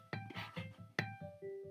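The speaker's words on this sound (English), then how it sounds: "here's the piano chords soloed" Solo piano plays a short broken-chord pattern, notes rolling upward one after another with a clear restart midway.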